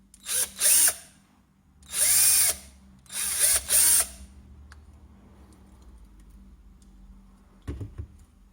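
Bursts of a power drill boring out the rivets on the underside of a Corgi Ferrari 250 Le Mans toy car: three or four loud, whining runs of a few seconds each, then quiet with a brief buzz near the end.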